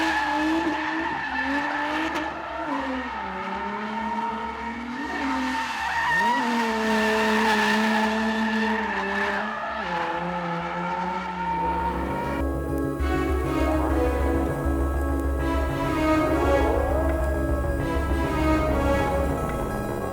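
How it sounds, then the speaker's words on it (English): A drift car held in a slide and spun in donuts under throttle, engine droning with rising and falling revs while the tires squeal continuously, loud and close for about twenty seconds. "Like I can actually get it to slide and do donuts and stay in drift under throttle"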